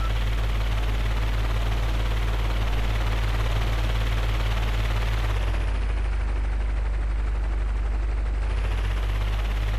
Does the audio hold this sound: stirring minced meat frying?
no